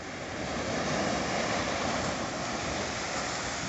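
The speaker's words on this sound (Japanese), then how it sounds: "この波の音" Ocean surf washes onto Waikiki Beach at night in a steady, continuous roar of breaking waves, close and fairly loud, with no voices.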